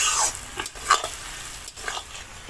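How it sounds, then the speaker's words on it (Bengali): Brinjal and onion being stirred and fried in fish oil, a close, continuous sizzle broken by scraping and clinking of a spatula against the pan. "এবার নেড়ে চেড়ে এভাবে ভাজবো"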